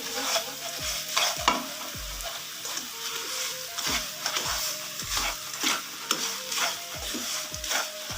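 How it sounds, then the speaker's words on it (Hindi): Paneer halwa being roasted and stirred in a pan, with steady frying sizzle under repeated scraping strokes of a spoon against the metal, close and continuous with no talk. "दो 3 मिनट के लिए अच्छे तरीके से इसको भून लेना है।"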